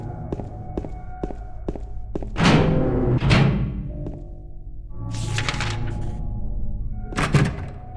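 Locked door in the game Silent Hill 2 being tried, heavy rattling thunks and thuds in a few bursts, preceded by a run of evenly spaced footsteps, close and loud.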